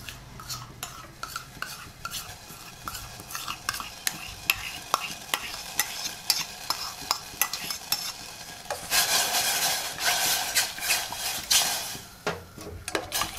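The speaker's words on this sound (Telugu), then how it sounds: "ఈ స్పూన్ తోటే కలిపేస్తున్నాను" A spoon stirs ingredients in a pot of hot water, making close, repeated metallic clinks and scrapes over a soft bubbling hiss, with the stirring quickening toward the end.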